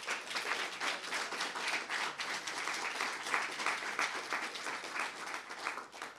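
A general assembly audience gives sustained applause for the elected candidates, a steady dense clapping that holds at an even level throughout.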